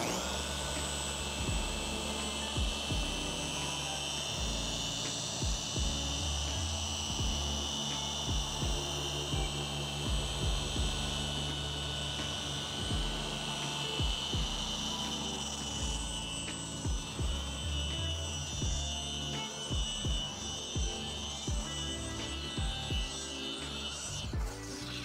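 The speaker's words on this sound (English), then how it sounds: "always keep the polisher moving" A car paint polisher runs steadily against painted bodywork, a continuous whirring hum with slight rhythmic fluctuations as the pad moves across the surface, fairly quiet and unbroken.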